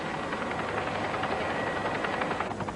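Helicopter orbiting above a river in a box canyon during a rescue, heard as a steady, fairly loud broadband rotor and engine roar with faint rhythmic pulsing, continuous throughout with no talking.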